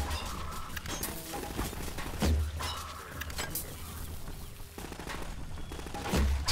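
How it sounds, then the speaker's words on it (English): Combine soldiers fire on the player in a Half-Life style game map named Ambushville at a radio tower, giving dense, constant gunfire with rapid bursts and scattered single shots, loud and close throughout. "wherever you are, you're just getting shot at constantly"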